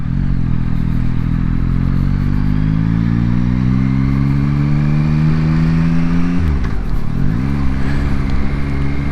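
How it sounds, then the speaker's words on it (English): A Yamaha Tracer 9 GT motorcycle engine revs steadily with rising pitch, then drops sharply and climbs again, a continuous close mechanical drone with no talk. "it sounds like a nice engine, personally."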